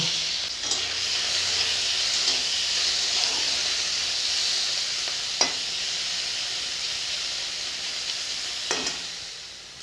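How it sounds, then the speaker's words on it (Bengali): Steady loud sizzling of shrimp frying in hot oil in a kadai, with a few brief clinks of a utensil stirring in the pan. "কড়াতে তেল দেব চিংড়ি মাছগুলো ভেজে নেব"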